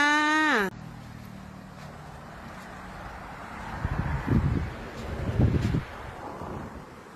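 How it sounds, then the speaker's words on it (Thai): Strong evening wind blows outdoors at sunset as a steady broadband rush, gusting louder around the middle of the stretch, after a brief tonal sound at the very start. "สายลมแรงครับเพื่อนๆสายลมแรง"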